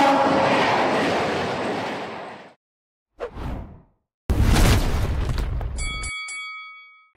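The Falaknuma Express, train 12703, rushes through an Indian railway station with a loud roaring whoosh that cuts off, returns in bursts, then ends with the train horn sounding. No one speaks.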